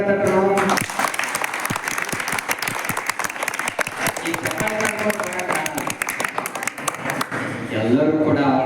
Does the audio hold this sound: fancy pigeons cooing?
no